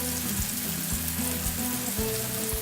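Tomatoes cooking in a pan for chicken handi, giving a steady close sizzle and bubbling that runs through without pause, with faint low clinks and hums beneath.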